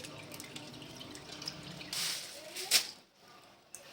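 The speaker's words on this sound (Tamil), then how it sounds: "நண்டை கழுவிடலாம், கழுவிட்டு க்ளீன் பண்ணிவிட்டு காட்டுறேன்." Crabs are rinsed under a running tap, water splashing and dripping close by with a couple of louder gushes and wet squishes, then the flow cuts off abruptly and goes quiet.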